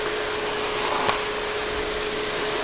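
A Philips Golden Sensor TC 536 1200 cylinder vacuum cleaner runs on its carpet setting, giving a steady, loud, broadband whoosh with a constant tonal whine and no voices.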